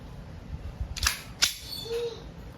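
A WE Hi-Capa 2011 T-Rex gas airsoft pistol firing over a chronograph indoors, two sharp close snapping shots about half a second apart, followed by a faint electronic beep.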